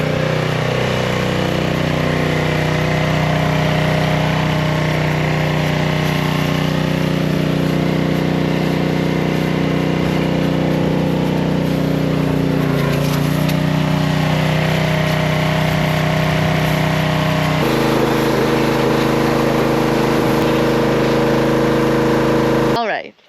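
An old engine runs at a loud, steady idle, a continuous droning hum that shifts slightly partway through before cutting off abruptly at the end.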